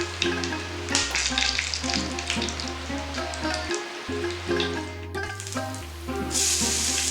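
Whole spices tempering in hot oil for coriander chicken, a steady close sizzle and crackle of frying that runs continuously, with no voices.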